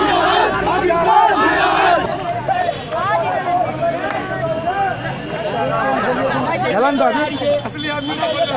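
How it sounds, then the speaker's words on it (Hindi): A crowd of party workers shouts rhythmic slogans in a street protest in Amroha, with many loud voices chanting together in repeated bursts amid general hubbub and chatter. "देखा आपने किस तरह से कार्यकर्ता प्रदर्शन कर रहे हैं, अमरोहा में सड़कों पर उतर आए हैं।"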